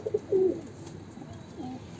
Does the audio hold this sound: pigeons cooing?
yes